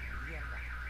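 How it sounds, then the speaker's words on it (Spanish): A real car alarm blaring steadily with a rising and falling electronic wail, loud and close, sounding alone for under a second. "Ya se activó la alarma de un carro, pero no. No del juego, precisamente."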